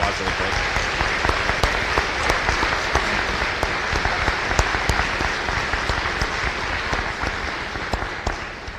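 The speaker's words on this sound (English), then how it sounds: "So could we give him a round of applause really quick?" A crowd at a Veterans Day Court of Honor program applauds a veteran with dense, loud, continuous clapping that holds evenly for nearly nine seconds, crisp individual claps popping through the wash.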